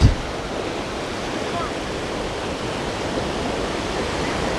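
Typhoon floodwater rushes in a dense, continuous roar, loud and close and steady throughout, like a swollen river in full flow.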